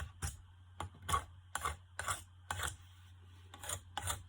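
A knife whittles wood in a series of short, close scraping strokes, about eight of them at a roughly even pace, with a low steady hum in the background.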